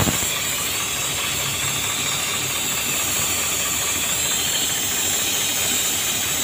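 Steady, loud air hiss from a burst air hose on a truck, a continuous broadband rush of escaping air that holds constant throughout with no voices.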